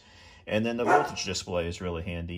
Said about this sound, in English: sorry about my dog, he's barking back there.